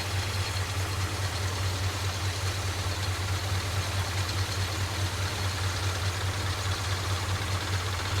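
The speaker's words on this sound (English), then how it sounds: "Sounds like it's idling pretty good for considering how it looks." A 1969 Ford F100 engine idles steadily on its first start in years, a continuous low rumble held close and loud with no break for the whole stretch.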